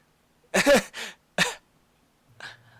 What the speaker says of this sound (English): kind of clear my throat